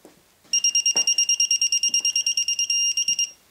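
A digital torque wrench beeps at its set torque while tightening a bolt on a BMW HP2 motorcycle, giving a rapid run of loud, shrill pulses and then a brief steady tone, close up, with faint background noise.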